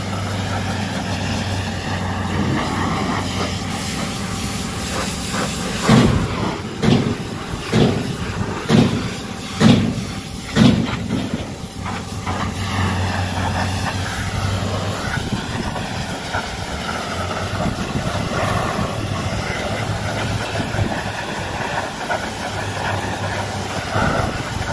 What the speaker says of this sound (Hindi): ये जेटिंग रड है, जेटिंग पाइप है